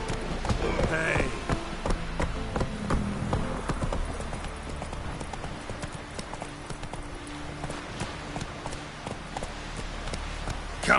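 Horse hooves galloping in The Witcher 3 video game, a steady rapid clip-clop rhythm running throughout over a low rumble, with brief voices heard faintly beneath.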